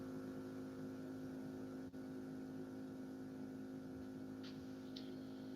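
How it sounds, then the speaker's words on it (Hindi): A motorbike runs somewhere in the background, a faint, steady low engine drone that holds throughout with no change in pace. "ये पीछे बाइक किसकी चल रही है?"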